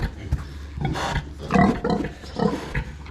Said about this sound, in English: Cranky pig.